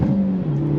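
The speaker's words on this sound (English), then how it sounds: "First gear, slow roll, on throttle, here we go." A 2023 Hyundai Elantra N pulls away in first gear under throttle, its engine a steady low drone whose pitch dips briefly and then holds, close and fairly loud.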